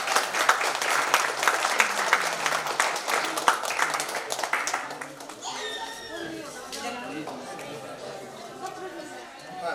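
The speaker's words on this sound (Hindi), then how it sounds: "जोरदार तालियां होना चाहिए।" Loud applause from the audience at a poetry gathering of visually impaired poets, dense rapid clapping for about five seconds that fades into crowd chatter and someone speaking over a microphone.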